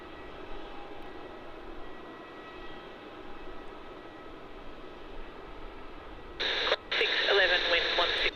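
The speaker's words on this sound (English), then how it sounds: "departing now, we have JQ43, a Jetstar A321neo" A Jetstar Airbus A321neo departs from Melbourne Airport in Australia, a faint, distant, steady jet roar under a hiss of background noise, with a brief burst of radio chatter near the end.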